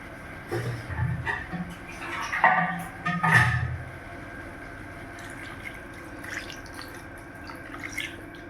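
Water is poured into a pan of ripe mango chutney, giving a few soft splashes and drips close by, quiet and without talk.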